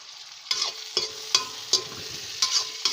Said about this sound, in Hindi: इसमें हम अभी डालेंगे टमाटर। इसके लिए फ्लेम को थोड़ा बड़ा करते हैं।